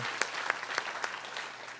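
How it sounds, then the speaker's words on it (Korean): A Korean church congregation gives a short round of applause during a Sunday morning service, scattered sharp claps over a soft, diffuse background of many hands. "하나님께 영광의 박수 한번 올려드리겠습니다"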